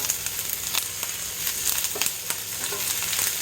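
Cabbage and peppers frying in a pan over medium-high heat give a steady close sizzle with scattered small pops and crackles, moderately loud and without any voices.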